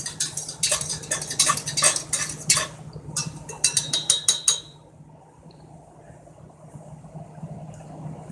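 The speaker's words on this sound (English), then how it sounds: "Going to give the cocoa mix a bit of a stir again." A spoon stirs cocoa mix in a cup from a 1980s first-generation MRE ration, quick clinking scrapes against the sides for several seconds, then a quiet background hum.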